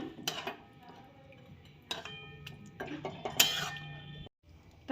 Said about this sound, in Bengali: ঢাকা দিয়ে দেবো এখন।